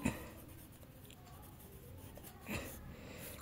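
Quiet scratchy strokes of writing on a classroom board come in short, faint bursts against a soft room hiss.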